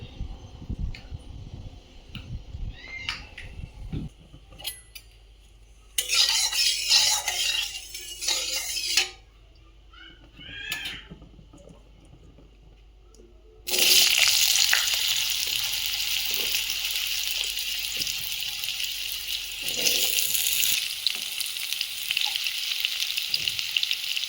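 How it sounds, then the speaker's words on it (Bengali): Mixed vegetables fry in mustard oil in a kadai: a low, quiet start, then a loud, bright sizzle bursts up for a few seconds, drops back, and returns as a long steady roar of frying with faint scraping. "এবার সবজিগুলো সব আলাদা আলাদা করে ভেজে নেবো। তো কড়াই সরষের তেল দিয়ে দেবো।"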